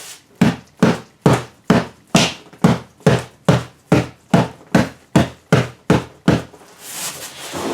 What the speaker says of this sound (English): Give it a good couple smacks